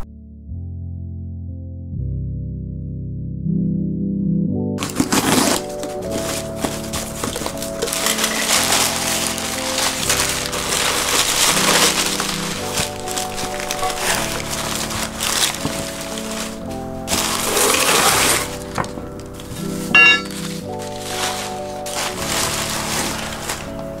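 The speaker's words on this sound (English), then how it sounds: "So let's go ahead and open this box." A cardboard box of car parts, JDM knuckles for a 1999 Mitsubishi Eclipse GSX Brembo swap, being opened and handled nearby, with continuous crinkling, tearing and rustling of cardboard and packing material over about twenty seconds after a quiet start.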